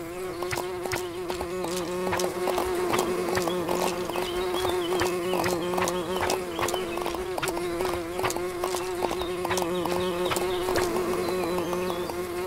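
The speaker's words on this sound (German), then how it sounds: "was mache ich jetzt mit den ganzen Bienen?" Swarm of bees buzzing in the farming game Everdream Valley, a loud, continuous drone with many overlapping wingbeats and steady pulsing, close and alone without speech.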